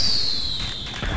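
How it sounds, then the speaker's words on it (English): Several missiles launched together in Grand Theft Auto V give a bright, sustained whooshing hiss with a high whistle, loud at first and slowly fading, with faint low thumps underneath and no talking. "Okay, everyone on three, I want you to shoot your missiles."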